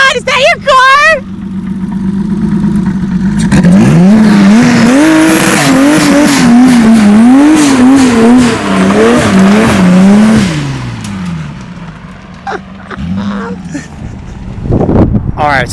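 An Audi S4 engine on 10 PSI boost revs and surges loudly up close, pitch rising and falling through gear changes, with tire squeal and brief voices at the start and end.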